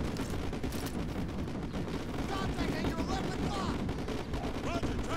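Continuous battle din of gunfire and heavy artillery firing in Call of Duty: Modern Warfare 2, dense overlapping booms and shots at steady loudness, with voices talking faintly underneath.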